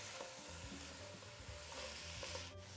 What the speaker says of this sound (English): I want to saute this about 5 minutes